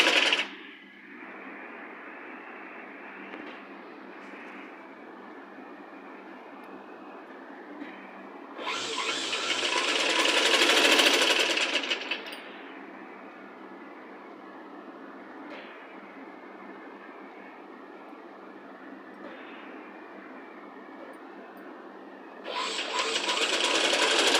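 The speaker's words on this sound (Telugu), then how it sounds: "1 ఇంచ్ వరకు ఫోల్డింగ్ చేసుకొని స్టిచ్ వేస్తాను" A sewing machine stitches a child's Punjabi dress top along a one-inch fold, running in loud rattling bursts separated by quieter stretches of low hum.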